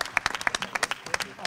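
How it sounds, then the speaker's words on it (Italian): Brief, scattered applause at the 70th anniversary award ceremony of AVIS Fano, with a handful of distinct, sharp hand claps in an irregular rhythm rather than a full crowd roar. "Un applauso anche per Antonella."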